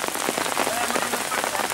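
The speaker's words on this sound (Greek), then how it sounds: "με την δυνατή αυτή βροχή" Heavy rain pouring steadily at a garden where refugees are staying, a dense, loud hiss of drops pattering on surfaces with no break.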